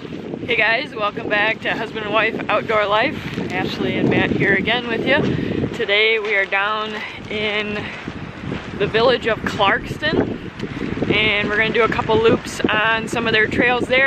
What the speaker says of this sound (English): You may hear the wind is a little bit windy today